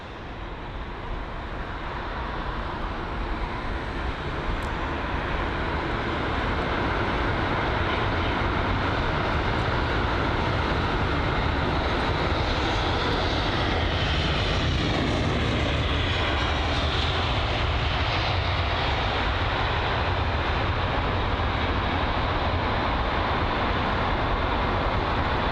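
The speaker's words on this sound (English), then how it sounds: "Nice touchdown there from the A320" A British Airways A320 lands at London Heathrow, producing a loud, continuous broadband roar of engines and airflow that holds steady for the whole stretch, with no voices.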